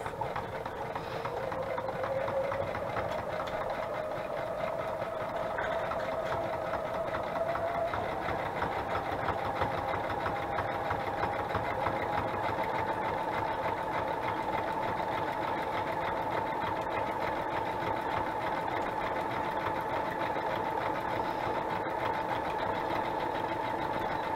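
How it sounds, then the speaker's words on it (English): Sewing machine running continuously while zigzag stitching down a collaged paper page edge, a steady close mechanical whir with rapid needle clatter and a slight pitch shift partway through, without talk. "I'm just going to zigzag straight down, doing a little backward stitch on both ends, just to kind of lock it into place"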